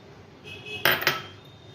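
Foxtail millet poured into a small jar, giving two quick bright clinks and a short rattle of grains against the container, close and fairly quiet, with no talking.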